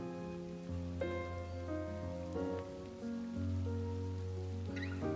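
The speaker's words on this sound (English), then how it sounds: "The endless patter of rain on the street creates a wordless song." Steady rainfall on a street in the game Behind the Frame makes a gentle continuous patter beneath held musical notes that carry over it.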